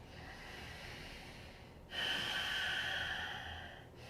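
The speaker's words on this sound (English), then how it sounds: "breathing in and out with this bit of an audible wave-like sound" Constricted-throat yoga breathing, an oceanic hissing breath: a quieter rushing inhale followed by a louder, wave-like exhale lasting about two seconds, close and alone.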